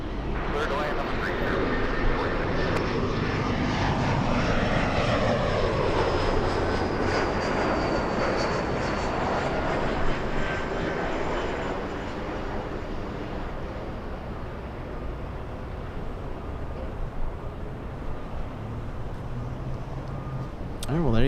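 A jet airliner lands on runway 24 right at Los Angeles International Airport. Its engine roar is loud and steady, with a sweeping whine as it passes, then fades slowly into distant rumble while radio-style talk sits underneath.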